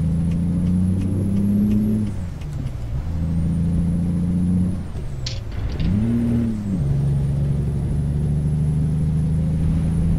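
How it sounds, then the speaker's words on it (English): A Peterbilt 389 truck in American Truck Simulator runs a steady loud engine drone that drops away twice as gears change, with a brief air hiss, then climbs back to a sustained rumble. "I shift too fast and it messes up the gears."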